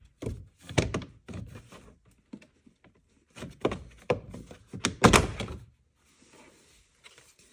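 Plastic interior trim being unclipped and pulled free in a 2020 Jeep Grand Cherokee, heard as a series of close, sharp thunks and snaps in irregular bursts with quiet gaps between.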